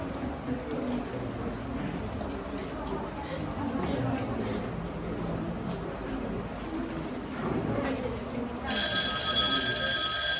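A telephone bell starts ringing near the end, bright and insistent, over a background of murmuring voices and room noise during a theater play.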